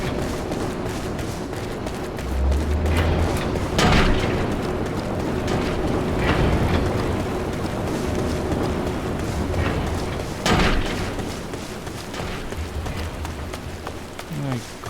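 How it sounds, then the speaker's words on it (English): Steady rainfall in the video game Final Fantasy XIV, a constant hiss that lasts the whole stretch, with a few louder thumps and crackles breaking through now and then. "Great rain."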